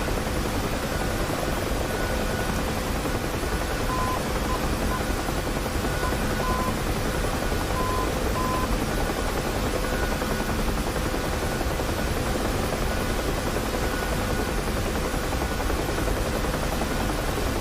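A helicopter flying in the DCS World flight simulator at night over the Syria map, its rotor and turbine drone steady and continuous with a faint high whine, no voices.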